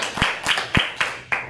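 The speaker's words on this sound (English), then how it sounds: "So I want you to take a minute right now and clap for your teacher." A few students clap for their teachers during a school morning announcement, about five separate sharp claps spaced irregularly, close and distinct rather than a full round of applause.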